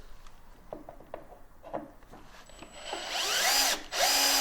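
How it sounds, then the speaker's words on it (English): A few faint metallic clicks and taps lead into a loud, steady whir of a power drill spinning up, drilling a skid plate on a 2023 Ski-Doo Expedition SE 900 ACE Turbo snowmobile close by. "I'm going to drill this one on the left side of the clutch first."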